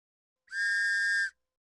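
A single steady, high-pitched whistle holds for under a second, clean and loud, with silence before and after.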